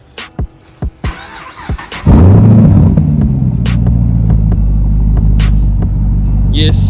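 A tuned Chevrolet Camaro SS fires up from a warm start on a cold day, with a few clicks first, then a loud, deep rumble that holds steady close by.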